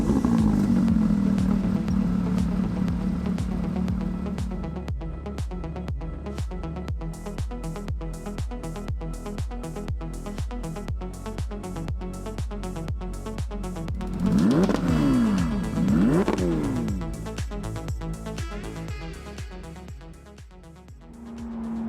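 A 2016 Porsche 911 GT3 RS fitted with a Soul exhaust pulls hard from inside the cabin, its engine note climbing through repeated sweeping rev rises and gear changes, loud and continuous with a steady low drone underneath.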